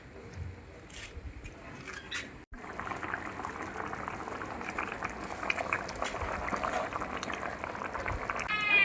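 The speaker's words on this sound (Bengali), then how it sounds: "তরকারি ভালো করে ফুটে গেছে" A pot of chicken curry with potatoes bubbles at a steady, even boil after water is added. The simmer is close and continuous, with a brief break partway through, and nobody speaks.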